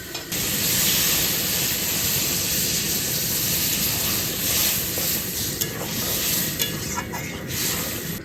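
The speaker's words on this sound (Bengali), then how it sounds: "এবার দেবো লবণ, হলুদ দেবো, এবার জল দিয়ে দেবো।" Water poured onto spices frying in a pan with salt and turmeric raises a loud, steady, broadband sizzle and hiss that holds close and continuous throughout, with faint scraping from stirring.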